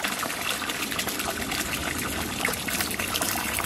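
Wastewater trickles and splashes out of a Laguna Pressure-Flo pond filter coupling on a koi pond, a soft steady dribble of water close by with no talking.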